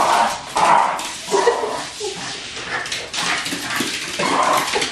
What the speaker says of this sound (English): Violent little dog.